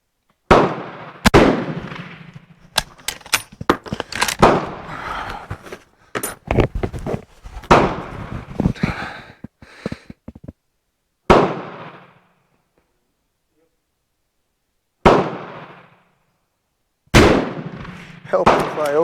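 A Swedish Mauser 96/38 rifle fires a series of loud, sharp shots outdoors, spaced a few seconds apart, with long ringing decays and a few closely grouped blasts. Someone talks between some of the shots.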